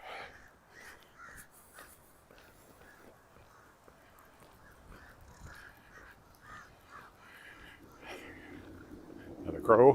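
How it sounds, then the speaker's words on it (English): A crow caws repeatedly in a steady series of harsh calls at a moderate distance, heard during an outdoor walk around a lake in Regina with quiet ambient noise and a brief louder sound at the end. "Another crow."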